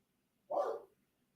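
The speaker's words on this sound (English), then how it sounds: "Maybe he's going to think he needs to bark the whole time." A dog gives a single short bark indoors. It is close and fairly loud, set against an otherwise quiet background.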